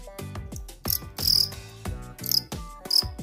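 A young fighting cricket chirps in short, sharp, loud bursts close by, several rapid trills with brief gaps between them and no voices.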